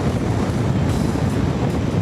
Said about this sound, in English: It's got to be at least a 40k wind, I reckon.